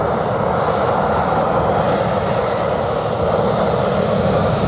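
An American airliner's engines roar at takeoff power on runway 07, a loud, steady, broadband jet rumble filling the whole clip without a break.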